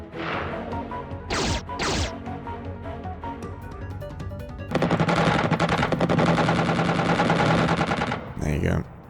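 Rapid aircraft machine gun fire rattles in the Xenonauts video game, dense bursts of shots layered over music and game effects, growing into a sustained loud barrage near the end.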